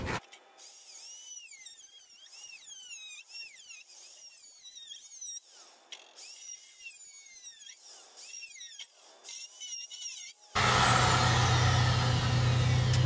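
A power tool cuts through a plastic splash guard on a Mazda Miata fender. It gives a close, continuous whine that rises and falls in pitch for about ten seconds, then turns into a louder, steady broadband roar.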